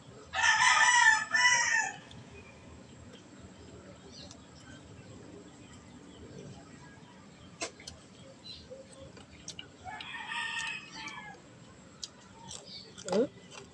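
A neighbour's rooster crows loudly and clearly in the morning, a drawn-out call at the start followed by a second, fainter crow later, with quiet background sounds and occasional soft clicks between.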